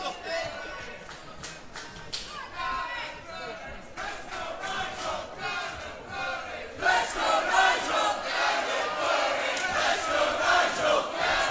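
A wrestling crowd at a 1PW event cheers and shouts throughout, swelling louder in the second half, with commentators talking over the noise.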